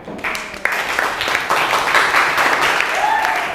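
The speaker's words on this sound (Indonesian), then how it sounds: "Kita kasih tepuk tangan." Classroom applause in an Indonesian language lesson: a lively burst of students clapping that starts abruptly and continues densely for a few seconds, loud and close, with a short voice near the end.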